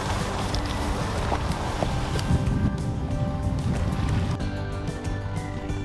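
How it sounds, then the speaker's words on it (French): A motorboat engine drones steadily at full speed off an island in Finland, with water rushing and splashing against the hull, loud and continuous throughout. "nous reprenons le bateau et filons à toute vitesse de l'autre côté de l'île"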